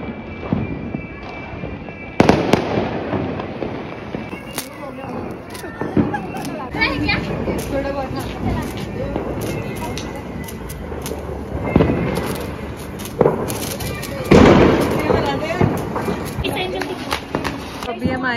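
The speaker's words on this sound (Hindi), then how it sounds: "अभी हम आए अपने यूनियन टर्मिया और हम यहाँ पे पटाखे फोड़ रहे हैं।" Diwali firecrackers and fireworks burst outdoors, with several sharp, loud bangs and crackling pops scattered among constant talking and chatter from nearby people.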